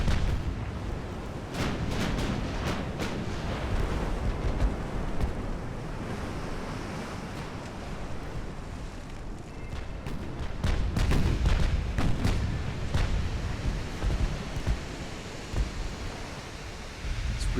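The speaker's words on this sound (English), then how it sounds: "And keep up the gunfire." Naval ship gunfire in Ultimate Admiral: Dreadnoughts, with booming salvos and distant rumbling blasts over a steady roar of wind and sea, continuing throughout.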